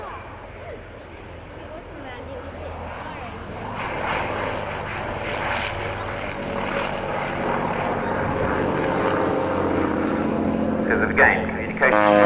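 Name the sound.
aircraft pulling into a loop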